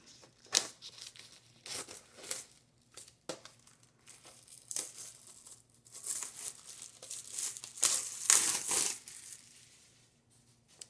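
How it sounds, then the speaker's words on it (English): Plastic wrapping being peeled and crumpled off dollar store picture frames, with loud crinkling bursts coming in irregular waves and a dense, crackling flurry near the end, close and alone. "I am going to just take the wrapping off of the pictures"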